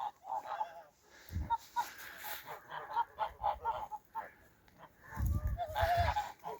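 A large flock of heavy-breed geese honk close by in repeated bursts, with rustling and a few stronger low thumps in between.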